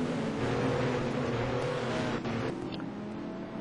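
Porsche race cars at the Anderstorp circuit roar by together: a loud, steady engine drone that fades slightly as the cars pass, with no voices over it.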